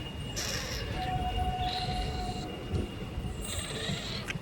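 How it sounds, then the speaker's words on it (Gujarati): A 59559 Veraval to Lushala passenger train rumbles steadily with rail noise and faint squealing tones as it pulls away from Maliya station, no one speaking. "માળિયાથી આપણી ટ્રેને ડિપાર્ચર લઈ લીધું છે"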